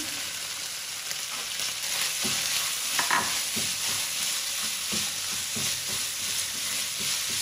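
Green onion stir-fried in a hot pan while cooking keema noodles, a steady close sizzle with scraping stir strokes throughout and no talking.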